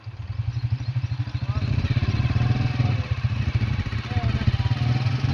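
A motorcycle engine runs close by with a steady, throbbing putter that rises slightly midway and holds a constant rhythmic chug.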